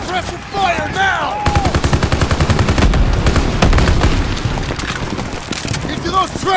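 Sustained gunfire in the World War II shooter Call of Duty: World War 2, with rapid machine-gun bursts rattling steadily and loud explosions mixed in, while a voice shouts orders over the battle.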